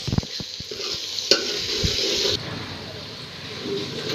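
Onions frying in a pan while being stirred for a meat dish, a steady close sizzle with several sharp scraping knocks of the spoon early on, the hiss easing slightly partway through.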